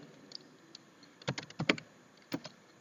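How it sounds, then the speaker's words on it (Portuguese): Keys are typed on a computer keyboard in short clustered bursts of clicks, close and fairly quiet, with gaps of near silence between the runs. "vou digitar aqui, ó"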